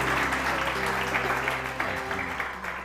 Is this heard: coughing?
no